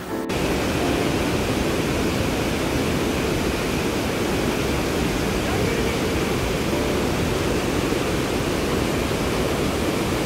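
A waterfall on the trail to Annapurna Base Camp, at about 4,130 m, gives a loud, steady, broadband rush of falling water that fills the whole stretch without a break.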